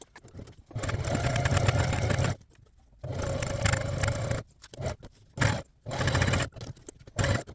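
A sewing machine stitches a hockey jersey in several bursts, a close buzzing whir that starts and stops, with longer runs first and shorter stitches near the end.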